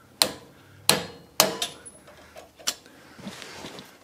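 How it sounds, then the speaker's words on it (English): A hammer taps circlip pliers set against the retaining clip on a castor wheel in a workshop: four or five sharp, close metallic knocks spaced irregularly, followed by a few lighter clicks and rustles. "just give it a tap with the hammer"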